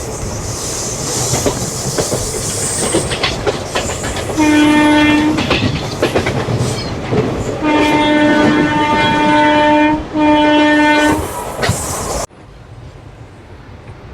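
Narasapur Express running through Sattenapalli station without stopping, loud close rumble and clatter of the train with three long blasts of its horn, the last cut off abruptly before a quieter tail.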